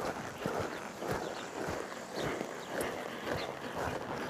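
Rhythmic hoofbeats thud along steadily over a constant background rumble, a mare moving at an even pace nearby through a four-barrel drill.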